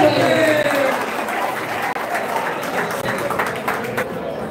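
Applause greets mayoral candidate Martínez Cuello at a campaign office opening in Santo Domingo Oeste, steady crowd clapping filling the whole stretch, with a voice over the top at the start.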